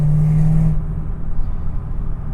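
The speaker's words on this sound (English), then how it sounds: "That exhaust note never gets old, guys. What a vicious exhaust note, man." A 690 rwhp Chevrolet Camaro ZL1 rumbles loud and close, a deep steady exhaust drone that lets off after a moment and settles into a rougher, pulsing idle-like burble.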